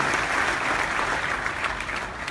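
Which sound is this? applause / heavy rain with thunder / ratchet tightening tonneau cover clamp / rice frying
applause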